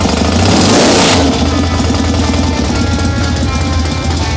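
A vintage motorcycle engine revs hard and loud up close, a thick roaring surge in the first second that settles into a rough, throbbing idle with no talk over it.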